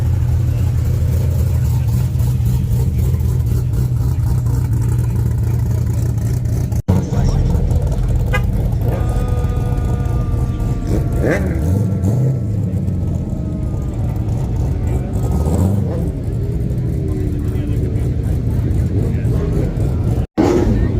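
A deep C6 Corvette Z06 V8 with a choppy idle rumbles steadily up close under continuous outdoor chatter at a cars and coffee meet, with some revving and a brief rising whine partway through.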